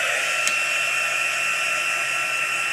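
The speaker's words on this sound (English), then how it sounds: "Now we can heat emboss everything. And I will warm this up." A heat embossing tool blows steadily while warming a handmade stamped card, a constant close whirring hiss with a faint click near the start and no talking.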